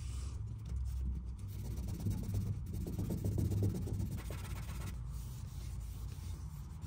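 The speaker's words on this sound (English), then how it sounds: "with a grit like 1200, it's still taking off plenty of paint, plenty of material" Car paint on a C10 project being wet sanded by hand with 1200 grit sandpaper, giving a soft continuous rubbing and scraping in steady back-and-forth strokes, close and quiet, with no talking.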